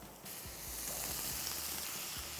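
Potatoes tipped into onions cooking in a hot pan over a high flame for a spicy Punjabi potato fry, setting off a loud, steady sizzle that swells after a brief quiet start and holds without any talking.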